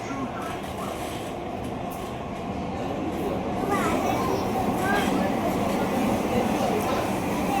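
A Mumbai metro train runs through an underground tunnel with a loud, continuous rumbling roar that swells slightly partway through, while voices chatter faintly underneath.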